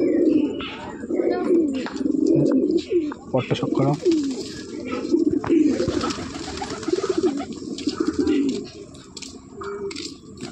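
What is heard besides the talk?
Giribaj pigeons cooing, Jira Napta breed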